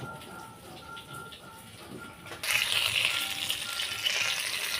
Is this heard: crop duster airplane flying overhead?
no